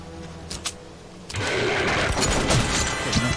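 Gunfire in the video game Metro: Last Light Redux: after a quieter opening, a loud burst of shots erupts and continues as a dense, rumbling barrage for the rest of the moment.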